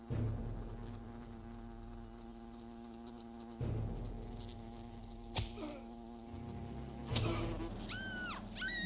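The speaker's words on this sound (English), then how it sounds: "everybody is just upset from these wasps, my goodness." Swarm of angry wasps buzzing in the video game Fable Anniversary, a steady droning hum running throughout, joined by scattered game effects and brief rising whistles near the end.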